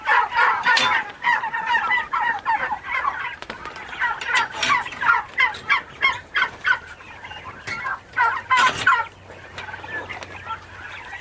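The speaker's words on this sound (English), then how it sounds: "so these are our turkeys" Medium white turkeys about seven weeks old gobbling and chattering in a poultry barn, a dense continuous flock chorus of overlapping bursts, fairly close with no talk over it.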